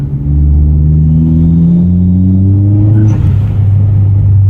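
A 2010 Hyundai Genesis with a turbocharged engine revs steadily from inside the car, a loud, smooth droning hum that shifts pitch once partway through, with no talk.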